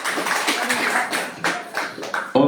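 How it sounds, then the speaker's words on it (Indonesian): Clapping from an audience at a community gathering, a short scattered round of hand claps with uneven bursts, fairly close and moderate in level. "Beri tepuk tangan yang meriah."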